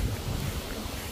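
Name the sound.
strong wind blowing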